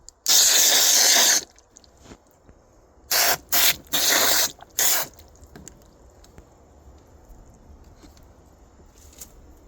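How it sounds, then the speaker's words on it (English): Water sprays from a hose into an outdoor bucket of dirt for mud, a long hissing rush and then several shorter bursts, loud and close, with quiet outdoor background between them. "Right now I'm about to fill up this bucket of dirt with water to make more of the mud."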